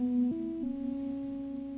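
A Korg MS-20 synthesizer plays a short melodic phrase of sustained buzzy tones, stepping through a few pitches, with a second layered line sounding together and slightly out of alignment.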